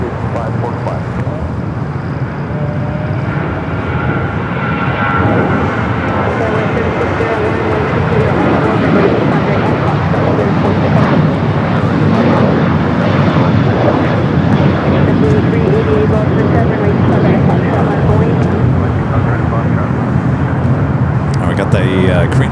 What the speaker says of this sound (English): The 747-8 Intercontinental, Flight 11, coming from Seoul.